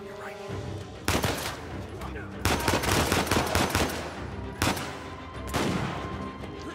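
Gunfire in Uncharted 4, loud sharp shots in several rapid bursts separated by brief pauses, with a player speaking intermittently.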